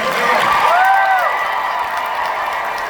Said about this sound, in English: A round of applause for Mark as well.